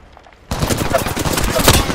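Dense automatic gunfire from Apex Legends, playing as Gibraltar, bursts in loud and sustained after half a second of near-quiet, a steady rapid rattle of shots with sharp peaks throughout.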